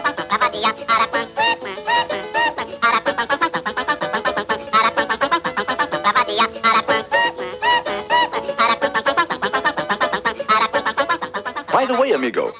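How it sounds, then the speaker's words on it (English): The Aracuan, a cartoon bird, sings a rapid, chattering run of warbling, squawking calls, loud and continuous, in a wild, jumbled cartoonish rhythm. "he's called the Aracuan because of the peculiar song he sings, which sounds something like this."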